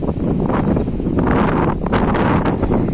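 Strong cyclone wind buffeting the microphone in heavy, rumbling gusts, loud and continuous with rustling underneath.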